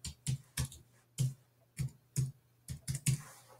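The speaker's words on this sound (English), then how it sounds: "I'm going to type my practice in" Keys on a computer keyboard clack in a quick, uneven run of about a dozen distinct strokes, close and crisp, with brief pauses between bursts and no voices.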